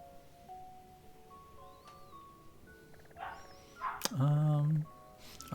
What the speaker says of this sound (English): Hear a dog